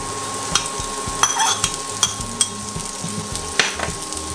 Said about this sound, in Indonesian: Kita tuang jamurnya